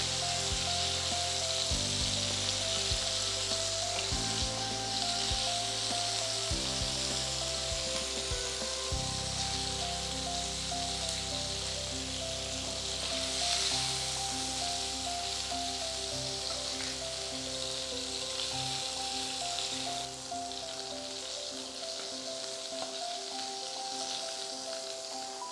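Chicken pieces fry over a high flame in oil with a loud, dense, continuous sizzle that fills the whole stretch, alongside a steady tonal hum, with no voices.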